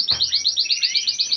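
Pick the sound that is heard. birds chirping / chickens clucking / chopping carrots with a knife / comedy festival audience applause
birds chirping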